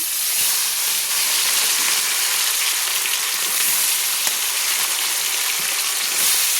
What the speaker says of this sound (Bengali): প্রথমে আমি লো ফ্লেম করে চিকেনগুলো ছাড়ছি